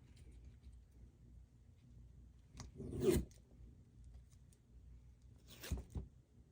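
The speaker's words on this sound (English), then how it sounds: "we'll just take our scissors and curl that" Scissors curl a strip of craft ribbon for a Christmas ornament, giving two quick scraping, zipping swipes a few seconds apart over a quiet background.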